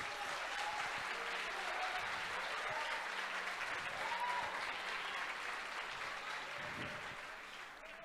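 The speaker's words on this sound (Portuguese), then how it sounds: "você pode aplaudir Jesus" Church congregation applauding during a Portuguese sermon by a bishop, sustained steady clapping from a large crowd that fades slightly toward the end, with faint tonal sounds underneath.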